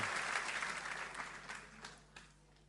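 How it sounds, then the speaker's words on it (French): At a French-speaking mission gathering, an audience applauds a brother named André, a fairly quiet crowd clapping that starts full and dwindles to a few isolated claps within a few seconds. "Applaudissez André."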